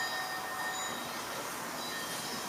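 A train rumbles past with a steady, continuous noise and a faint high squeal of wheels, with no voices.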